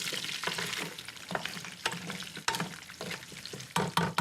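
Smashed garlic cloves stirred around in a pot, irregular scraping and clinking strokes over a soft sizzle, close up with no talking.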